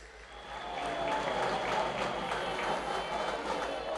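A crowd at an outdoor celebration rally applauds a permanent secretary, producing a soft, diffuse rush of clapping that swells and holds, mixed with a low steady hum in the background.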